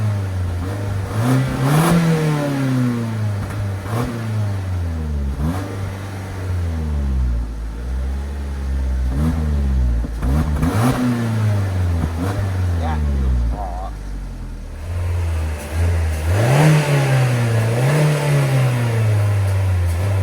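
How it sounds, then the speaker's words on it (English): A 2016 Scion iA engine is revved repeatedly through its exhaust, each rise and fall of the tone rising and dropping in a series of loud, close vroom sweeps with short idle pauses between them. "I'll give an exhaust clip of it now"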